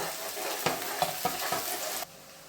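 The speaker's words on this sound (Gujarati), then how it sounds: "એક સમારેલી મીડિયમ સાઈઝની ડુંગળી છે એ આપણે નાખી દઈએ અને બરાબર સાંતળી લઈએ" Chopped medium-sized onion sautéing in hot oil in a pan, a steady sizzle broken by a few stirring scrapes before it cuts off abruptly near the end.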